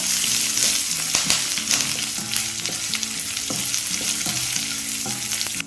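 Curry leaves and dried red chillies fry in a pan with a loud, dense sizzle, while the spatula scrapes and taps against the metal in a repeating rhythm, heard close with no voices.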